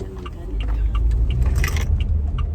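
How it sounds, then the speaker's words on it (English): Several cars rolling by on a quiet back road, a steady low engine and tyre rumble with faint rattling and scraping on top, fairly close and continuous throughout. "why are there so many cars on the back road today at this particular moment?"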